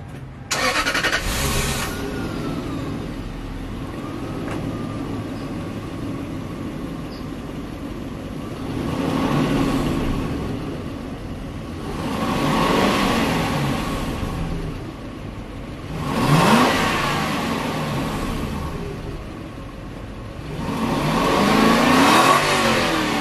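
A Lexus LS400 with stock mufflers starts and revs in several separate bursts that swell and fade, a fairly subdued engine note over a steady low background, with no voices.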